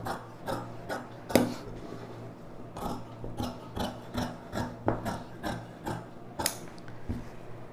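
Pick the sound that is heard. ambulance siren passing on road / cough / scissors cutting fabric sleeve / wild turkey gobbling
scissors cutting fabric sleeve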